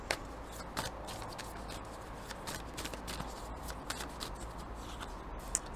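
Tarot cards are shuffled and drawn with a dense, continuous riffling and sliding of cards, close by and steady, with a few soft taps and no talking.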